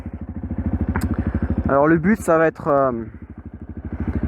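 Quad bike engine running at a steady, rhythmic idle close by, with someone talking over it partway through.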